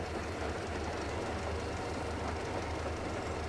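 A railcar in Metro Exodus runs along the rails with a loud, continuous rumbling roar and faint rhythmic clatter, close and unbroken throughout.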